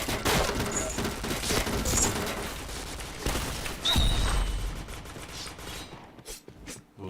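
Rapid video game gunfire in dense bursts of crackling shots and a heavier boom near the middle, fading to quieter scattered pops at the end, with a little talk underneath.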